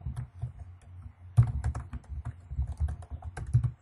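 Computer keyboard typing of a project name in a Windows application, a short burst of close key clicks in two quick clusters without speech.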